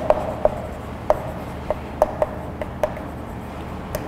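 Chalk or marker tapping and scratching on a classroom board while a physics lesson unit is written, a series of sharp, evenly spaced ticks over steady room hiss, with no talking.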